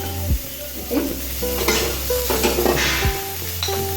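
Poha ingredients fry lightly in a pan for a tasty, healthy breakfast, giving a steady close sizzle broken by a few scraping stirs and soft clinks of a utensil, with tonal hum running underneath and no talking.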